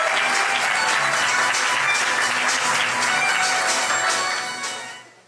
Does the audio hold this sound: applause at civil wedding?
yes